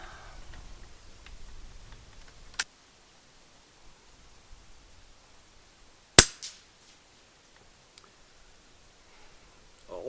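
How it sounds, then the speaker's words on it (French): A single sharp report from a .22 LR rifle firing RWS subsonic ammunition, fairly subdued with a brief ringing tail, preceded by a fainter click and light handling rustle. "Alors au premier coup, elles me paraissent encore plus faibles en bruit"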